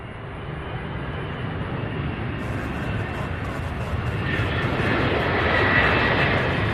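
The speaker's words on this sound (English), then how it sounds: "Beautiful landing. Look at this A300 here." An Airbus A300 landing at Louisville International Airport gives off a loud, continuous jet engine roar that builds slowly over several seconds, while a voice talks faintly in the background.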